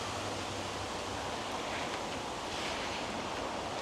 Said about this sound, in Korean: 바람이 불면서 대나무 잎이 사각사각 소리를 냅니다.